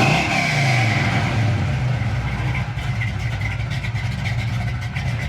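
A 1968 Chevrolet Chevelle V8 revs loudly and close by, its engine note climbing and falling in steady pulls with no other sounds over it.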